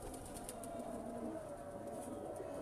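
Home-bred pigeons of the Mian Nazeer bloodline coo softly in a loft, with faint repeated calls and occasional wing flutters over a low background hum, quiet and close.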